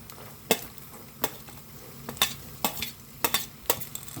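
Cashews and raisins frying in a pan for Tirupati laddu, stirred with a spoon that scrapes in sharp, irregular clicks and taps over a faint sizzle, close by, with no talking.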